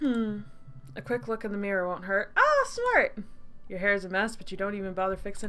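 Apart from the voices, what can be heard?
No everyday noises stand out.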